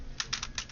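Keys on a computer keyboard are struck in a quick run of about five or six crisp clicks, close by and moderately loud, while data is entered into a SQL Server database; nobody speaks.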